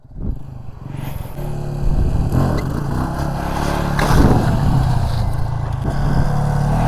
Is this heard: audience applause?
no